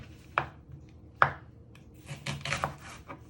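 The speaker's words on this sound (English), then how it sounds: "So you're slicing them really fine. Always be careful with your sharp knife, you don't cut yourself." A sharp knife finely slicing onion on a cutting board for pulled pork wraps, giving two distinct close knocks followed by a quicker cluster of soft cuts and scrapes, with no talk.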